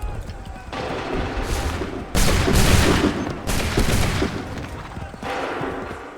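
Musket volleys fire in the Revolutionary War battle at Lexington and Concord in Assassin's Creed III, with loud, dense crackling bursts of massed shots recurring several times in quick succession, close and booming, with shouted orders in between.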